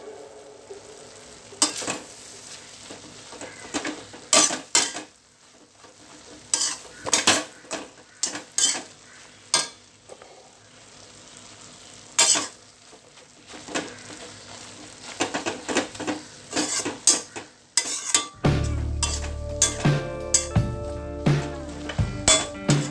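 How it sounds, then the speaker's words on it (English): Instant noodles stirred in a pan over low flame, utensil scraping and clinking against the metal in irregular bursts, with a soft sizzle underneath and a louder clattering spell near the end. "Let's quickly stir it."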